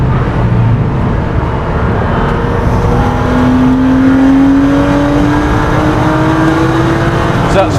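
A 400bhp BMW M135i race car howls at full throttle on track, its engine note rising steadily through the gears with a dense, continuous drone of wind and road noise, loud and close from inside the cabin.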